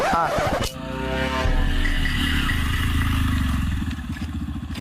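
A motorcycle engine runs close by with a steady mid-pitched drone and a rattling idle, loud and continuous throughout.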